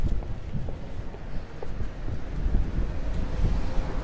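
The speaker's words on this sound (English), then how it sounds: "It's a windy day. There's no doubt about it." Strong wind on a windy day in a small square park in Paris, buffeting the microphone in low gusty rumbles that swell and ease continuously.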